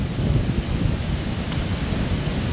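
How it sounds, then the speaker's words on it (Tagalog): Strong, steady coastal wind in San Juan, Batangas, buffeting the microphone with a continuous low roar and rumble, no voices. "yung hangin walang pagbabago, malakas pa rin"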